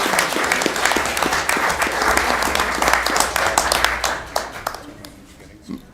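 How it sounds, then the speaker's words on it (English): A council chamber crowd gives a big round of applause for local Skills USA winners, dense steady clapping that holds loud for several seconds, then thins and fades out near the end. "Another huge round of applause for our"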